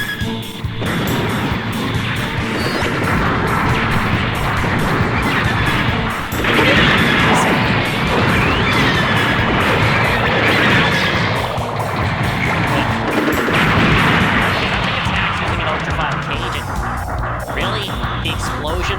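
Explosions and combat from a bazooka round in Mobile Suit Gundam: Federation vs Zeon DX, loud and dense throughout with crashing bursts and continuous game noise, swelling near 6 and 13 seconds.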